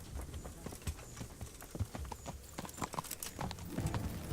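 Hooves clip-clop at a walk in the medieval game Kingdom Come: Deliverance, a quiet and fairly regular patter with a few heavier thuds near the end.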